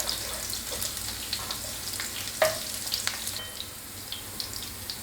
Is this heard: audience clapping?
no